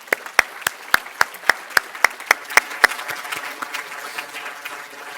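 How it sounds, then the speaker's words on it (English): Clapping at a postbac premed class day ceremony: a dozen sharp, evenly spaced claps ring out clearly, then soften into scattered, fainter hand claps trailing off. "So just a round of applause."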